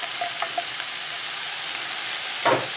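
Peas tipped into a pan of potatoes frying until crisp, a steady close hiss of hot oil with a few small taps and a brief louder rattle near the end, no voices.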